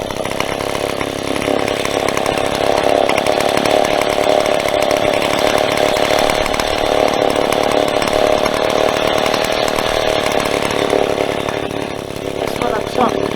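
A Stihl 070 chainsaw runs steadily at high revs, loud and continuous throughout, its engine pitch holding constant as it is leaned into a cut, with speech faint or buried under the noise.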